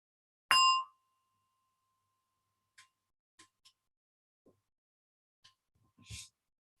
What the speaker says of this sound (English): As you hear a gong, and we'll lead you through.